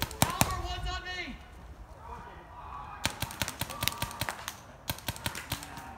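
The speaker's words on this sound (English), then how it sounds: "He's dry firing a lot." Paintball markers fire in a woodsball tournament finals game outdoors, a run of sharp pops spread through the clip, some in quick bursts, under steady talk.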